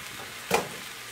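Bitter melon stir-fried in a pan gives a soft steady sizzle, broken by one brief scraping stir.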